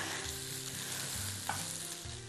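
Green beans fry in a pan with a steady, soft hiss and crackle, quiet and close, with occasional stirring scrapes and no talking.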